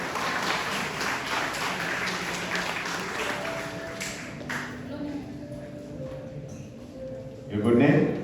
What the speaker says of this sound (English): A clap for it, please.